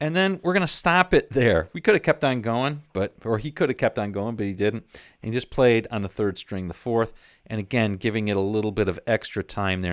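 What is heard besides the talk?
None of the usual background noises is heard.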